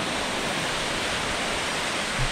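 Boksungatang, a waterfall pool also called Yongtang Falls in the Seoraksan valley, sends up a constant, even roar of falling water, loud and unbroken, with no voices over it.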